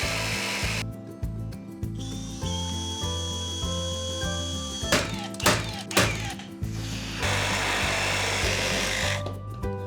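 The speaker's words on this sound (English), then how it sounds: "I need to hold this plumb and drill the hole." A power drill whirs steadily in starts and stops, with sharp knocks and grinding bursts midway as the bit bites into material, close and loud.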